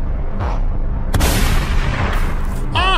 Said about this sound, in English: I was shooting through a gap